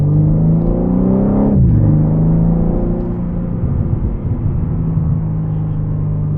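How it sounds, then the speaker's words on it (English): A BMW M3 Competition engine revs and drops while driving through city streets, with a deep rumbling exhaust note, a pitch swoop as it revs down and faint crackles, heard from inside the car. "So you do get some pops from the exhaust. I'm starting to notice that as it's revving down."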